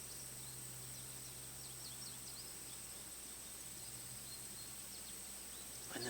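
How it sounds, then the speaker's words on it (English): Faint outdoor ambience with scattered bird chirps and a high steady insect drone like cicadas over a low hiss, distant and quiet throughout, with no wind gusts standing out. "the birds, the song of the cicadas and the wind, the rustling trees is there, isn't it?"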